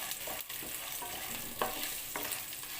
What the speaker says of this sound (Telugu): ఇప్పుడైతే తాలింపులండి. ఆవాలు, జీలకర్ర, నేనైతే మినపప్పు వేయలేదండి, శనగపప్పు అంతే.